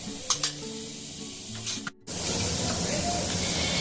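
Nigella seeds drop into hot oil for a Bengali fish dish. A few light clinks come first, then a loud, steady sizzle takes over and holds to the end.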